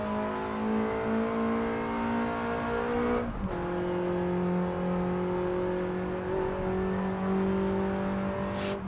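Lancia Delta S4 Stradale engine in the Assetto Corsa racing game, droning steadily at high revs with a brief dip and shift in pitch partway through, loud and continuous with faint tyre noise over a rally-style stage.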